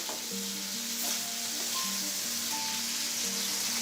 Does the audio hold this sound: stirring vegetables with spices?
yes